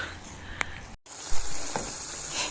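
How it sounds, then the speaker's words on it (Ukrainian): Meat stews in a pan with butter, giving off a soft, steady sizzle with a few brief clicks and stirring sounds, quiet and close. "Ще зараз тушу м'яско"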